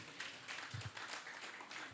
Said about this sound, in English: Please, a resounding round of applause for Professor Monsignor Obiora Ike.